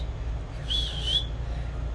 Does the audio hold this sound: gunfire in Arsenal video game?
no